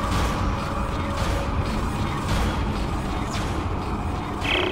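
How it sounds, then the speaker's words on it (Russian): A jammed door mechanism in the sci-fi horror game Dead Space grinds and creaks with harsh metallic scraping and clanking, loud and continuous, with a brief higher rattle at the end. "Похоже, дверь заклинила, Айзек."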